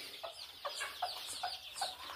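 Kaveri crossbreed chickens cluck in a series of short, close calls at an irregular pace over a quiet farmyard background, with no talking.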